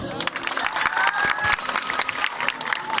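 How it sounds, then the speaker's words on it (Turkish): A crowd at a wedding ceremony applauds steadily, a dense patter of many hands clapping at once, with voices murmuring and calling out underneath. "Ben de şahitleri alkışlamayı unuttuk"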